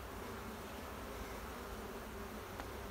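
Honeybees buzz continuously around an open beehive during a mite check, a dense, steady hum filling the air close by with no talking.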